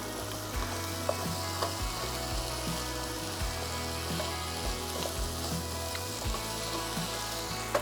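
Diced onion frying in a pan at an outback camp cookout, a continuous close sizzle with occasional scraping taps from stirring and a low steady hum underneath.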